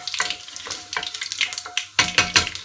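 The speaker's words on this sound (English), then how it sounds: "all those herbs, all those spices have started popping" Herbs and spices sizzle and pop in hot oil in a pan while an Indian chicken curry is started, with bursts of crackling frying standing out clearly, close up, and no talking.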